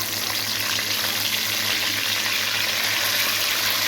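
Tenderised mutton fries in hot ghee, giving a dense, continuous sizzling hiss that stays loud and even from start to finish, with no voices.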